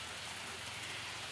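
Steady rain falls on a cold, wet afternoon, a soft, even hiss of drops with no voices.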